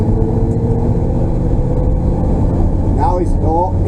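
A truck engine runs steadily at close range, a continuous low rumble with faint higher whines near the end, heard from inside the cab on its first drive after breaking down.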